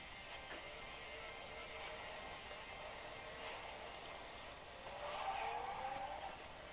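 Racing cars roar and skid with tire squeals in a tablet racing game demo, a fairly faint continuous engine drone with a brighter squeal swelling near the end.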